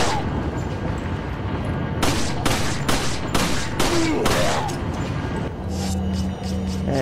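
Rapid pistol shots from the video game Resident Evil 4, a string of sharp loud bangs fired in quick succession over game background sound and some low music.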